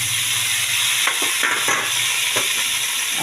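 Chopped bathua greens going into a pan of frying vegetables with green chilli, a constant hiss of oil broken by a few brief bursts of louder sizzling as the greens land and are stirred.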